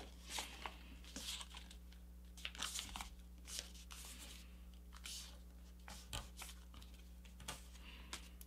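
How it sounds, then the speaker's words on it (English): Paper is folded and creased into a paper airplane, with soft crinkles, rustles and sharp creasing taps coming in irregular bursts, close up and quiet, with no talking. "fold our wings right along this edge here"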